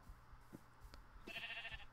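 A sheep bleats in Minecraft survival mode, one clear wavering bleat at mid-level loudness, preceded by soft thumping footsteps.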